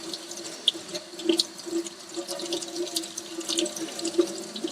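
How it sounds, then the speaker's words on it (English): Tap water runs steadily into a sink while arms are rinsed under the stream, a soft close splashing with occasional small spatters and no talking. "you want to rinse your arms under the water with fingers pointing upward"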